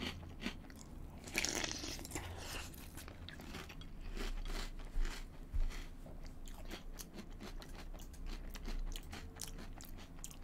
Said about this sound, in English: The cereal's fucking delicious.